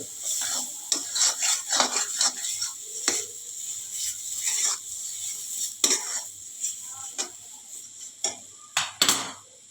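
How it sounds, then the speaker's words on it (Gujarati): A spoon works mashed potato paratha filling together with spices in a bowl, making repeated close scraping and tapping clicks in an uneven rhythm, with no speech. "અને નાખ્યા બાદ તેને બધા મસાલા સાથે બરાબર મિક્સ કરી દઈશું."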